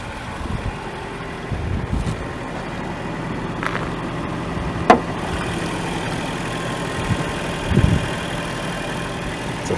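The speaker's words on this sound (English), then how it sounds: "healthy V8 engine" A V8 engine in a 2011 Infiniti M56x idles steadily and close, a deep continuous rumble with a few small clicks and bumps, no voices.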